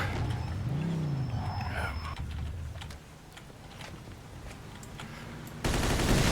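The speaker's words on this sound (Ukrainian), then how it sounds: "а потім із Томігану просто стріляти" Rapid bursts of Tommy gun fire crackle in a Mafia 2 scene over engine rumble, ending with a loud noisy burst.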